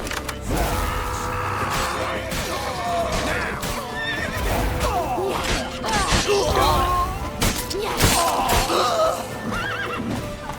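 Horses in The Witcher 3: Wild Hunt whinny loudly several times over hoofbeats and game sound effects, the neighs rising and falling in close, repeated cries.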